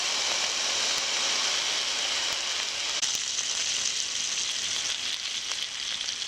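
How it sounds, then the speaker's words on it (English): Bacon frying in a pan gives off a loud, dense, continuous sizzle, dotted with small crisp pops and crackles throughout, close up and with no voices. "we've got our bacon popping over here"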